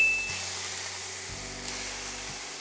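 Ground beef hits a hot pan over medium heat and sizzles in a steady, bright hiss, with a few soft low thumps as it settles.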